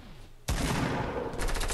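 Rapid automatic gunfire from a gun in a shooter video game, a loud sustained burst of shots that briefly pauses and resumes, with no speech.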